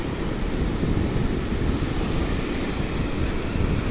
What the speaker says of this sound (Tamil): ஆர்ப்பரிக்கும் கடல் அலைகள் ஆபத்தை விளைவிக்கும் கடல் பிரதேசம்